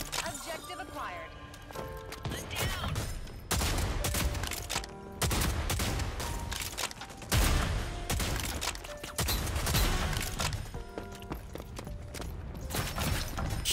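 Shotgun blasts in the online shooter Rogue Company, loud repeated booms in bursts with short gaps, mixed with game noise and music tones while a voice talks over them.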